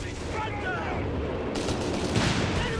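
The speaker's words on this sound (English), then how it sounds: "Machine gun fire being silenced with artillery." Machine gun fire and artillery in the World War II strategy game Company of Heroes 3, a dense, fairly quiet battle din of rattling bursts and distant booms running steadily throughout, mixed under faint voices.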